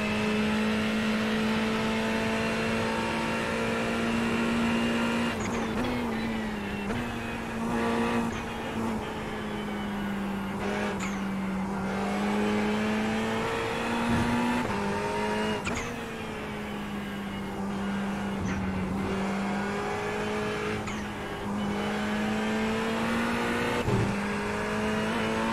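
Race car engine in a racing video game droning at a steady, high pitch, dipping briefly during gear shifts and corners, loud and continuous throughout.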